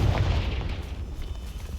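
A Confringo spell explodes in Hogwarts Legacy, a short heavy boom with a deep low rumble that fades quickly over a couple of seconds.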